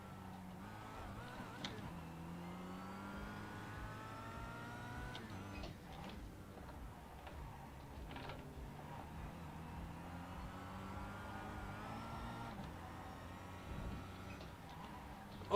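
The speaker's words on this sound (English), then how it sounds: "This guy's just doing burnouts." Race car engine in the iRacing sim during burnouts, a steady wavering drone of revs rising and falling throughout, moderately loud and continuous, with no talk over it.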